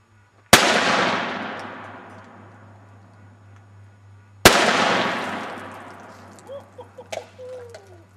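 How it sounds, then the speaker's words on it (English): Two loud, close revolver shots from a .454 Casull Taurus Raging Bull firing 400-grain bullets into shaving cream, spaced about four seconds apart, each ringing out with a long decaying echo, with faint chirps after the second blast. "I'm going to shoot the shaving cream with the 454 Raging Bull Taurus."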